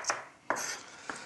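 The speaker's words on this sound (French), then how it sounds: "il ne me reste plus qu'à tailler des petits dés" A knife dices an onion on a cutting board in a home kitchen, giving three crisp chops spaced about half a second apart, close and fairly quiet with no talk.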